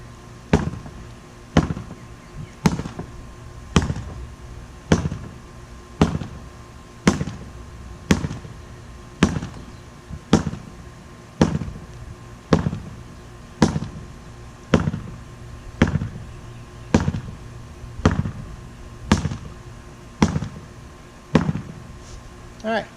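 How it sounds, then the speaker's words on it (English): A sword strikes a practice pell with steady, evenly spaced left-handed jab chops, each a sharp close thwack repeated roughly once a second throughout. "sword leg back, left hand. Do that jab chop."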